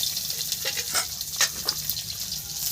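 Garlic hits hot oil in a pan alongside fish roe, a crackling sizzle broken by several sharp stirring clicks and scrapes, close and fairly quiet, with no one speaking.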